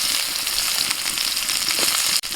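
Chopped onion goes into hot oil in a kadai with whole cumin already toasted, giving a loud, close, continuous sizzle with crackly spatters. A short dip comes near the end, and no one speaks.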